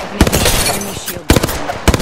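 Bursts of video game gunfire crack in quick rapid volleys, loud and close, separated by a brief lull, under a busy game soundscape.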